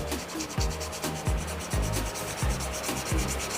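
Sandpaper with worn-out grit rubs against a wooden shaving brush handle spinning on a wood lathe, a steady scratchy rasp that swells in repeated strokes about every half second, close and fairly loud.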